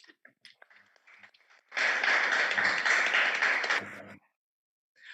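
Applause from an audience at an English-language S!NERGY × AFRICA 2021 event, a burst of dense clapping lasting about two seconds after a few scattered claps, then silence.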